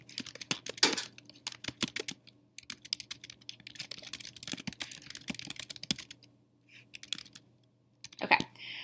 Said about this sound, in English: so you type your text